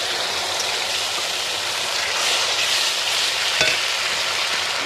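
Browned chopped onions fry in a pan with garlic paste, green chillies, and ginger and cumin paste for a shankar fish curry, producing a loud, continuous sizzle with stirring scrapes and no voices.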